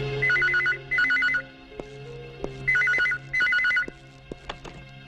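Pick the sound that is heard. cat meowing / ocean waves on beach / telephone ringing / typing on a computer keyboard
telephone ringing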